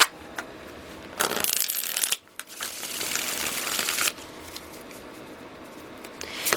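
Tarot cards being shuffled, a few bursts of crisp riffling and flicking, close and fairly quiet, with brief pauses between shuffles and no talking.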